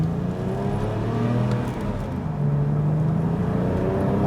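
A 2009 Porsche 911 Turbo pulls away from a stop in first gear, its engine note rising steadily and loud and close, with a brief dip partway through before it swells again.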